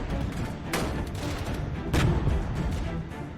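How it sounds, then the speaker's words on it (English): BRM-1K armored vehicles open fire in a Cold War combat simulator game, a rolling mix of distant booms and gun bursts with two sharper, louder blasts standing out against steady battlefield rumble. "BRM-1Ks are firing at them."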